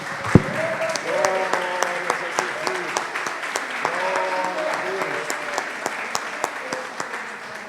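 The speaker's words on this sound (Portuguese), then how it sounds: "Vamos aplaudir o Senhor" A church congregation applauds during a Portuguese-language worship service, a dense, even patter of many hands clapping with sharp individual claps standing out, while sustained sung or spoken tones run underneath.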